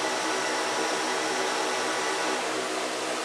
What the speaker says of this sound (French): le Power Egg est plus bruyant